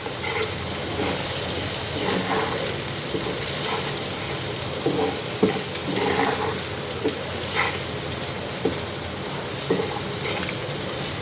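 Rohu fish belly pieces fry in oil with a steady sizzle and hiss, broken by occasional soft clicks and stirring taps, close and continuous, without speech.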